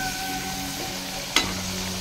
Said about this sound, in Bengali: আলুগুলো আমি লাল করে ভেজে নেব একদম